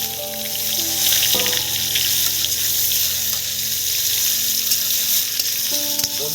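Potatoes frying in hot oil with cumin give off a loud, continuous close sizzle with a bubbling hiss and occasional stirring scrapes, with no talk over it.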